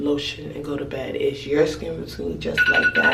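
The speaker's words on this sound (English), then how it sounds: "Oh, that's my alarm." A phone alarm starts ringing near the end with a steady, repeating electronic tone, heard under someone talking.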